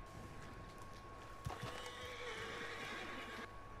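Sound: horses neighing in video game Red Dead Redemption 2

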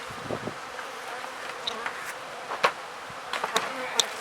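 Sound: honey bees buzzing at an opened beehive

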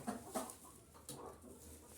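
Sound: chickens clucking

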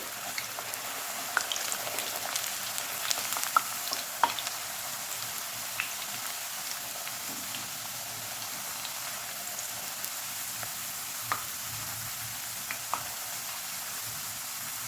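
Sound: chips frying in hot oil on high flame

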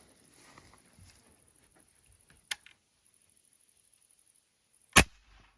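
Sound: air rifle shot

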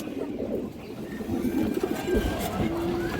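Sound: pigeons cooing

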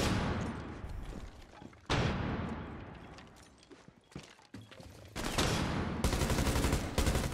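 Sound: flashbang and gunfire in video game Rainbow Six Siege

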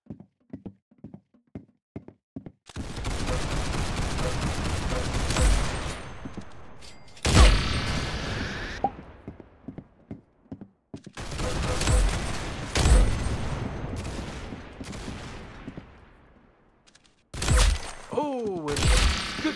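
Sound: gunshots in the video game Roblox Arsenal

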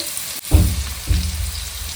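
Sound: onions frying in a pan

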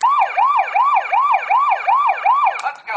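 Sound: siren sounds from Transformers Optimus Prime toy

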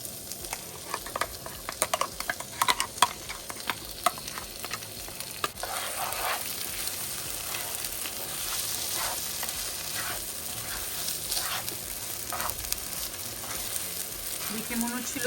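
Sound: ivy gourds frying and stirred in a large frying pan

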